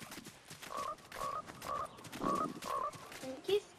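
Frog croaking in the Fortnite video game, a run of about six short, evenly spaced croaks over a couple of seconds, fairly quiet and close, with faint game noise around it.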